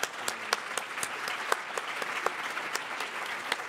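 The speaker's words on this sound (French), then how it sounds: "Une grande main d'applaudissements, s'il vous plaît." An audience applauds after a Saint-Émilion wine tasting, a soft, steady patter of many hands heard from a distance with a few sharper claps standing out.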